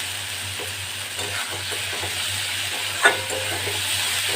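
Potato and eggplant sizzle steadily in oil and masala in a pan for a Bengali bata fish curry, a continuous close hiss with a single soft clink from a utensil partway through.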